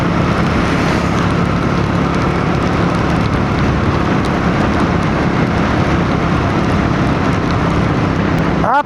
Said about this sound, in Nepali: पानी पर्यो, पानी पर्यो